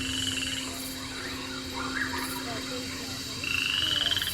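Many frogs croak continuously in a dense chorus, with a steady background drone and a louder pulsing call toward the end.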